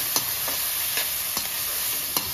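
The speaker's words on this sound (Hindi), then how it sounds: "अब मसाले को हम अच्छे से मिक्स कर लेते हैं।" Spice masala with soy sauce and vinegar fries in a pan under a steady sizzle, and a few evenly spaced stirring scrapes sound close up, with no voices.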